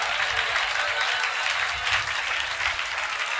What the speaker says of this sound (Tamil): நல்ல கைத்தட்டி தோத்திரம் பண்ணுங்க பாப்போம்.